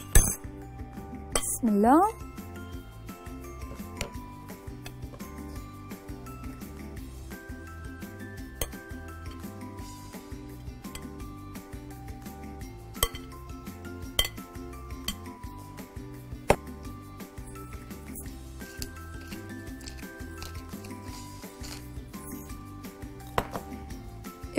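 Dishes and cutlery clink in scattered sharp taps as pasta salad with oregano chicken is plated, with a short spoken phrase at the start and quiet kitchen sounds between the clinks.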